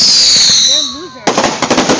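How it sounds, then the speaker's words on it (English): Fireworks go off outdoors, a rising whistle followed by a sharp loud burst and a rapid string of crackling pops, with people's voices nearby. "did you see that firework?"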